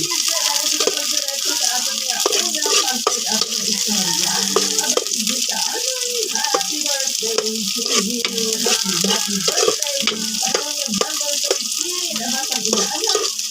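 Onions sizzle steadily in a hot pan, a constant crackling hiss that continues throughout, with faint background voices.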